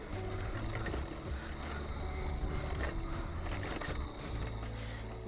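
An electric pit bike, a Bomb Moto B1, ridden off-road on a muddy trail, heard as a continuous rushing drone of wind and motor whine with bumps and rattles throughout, no clear talk.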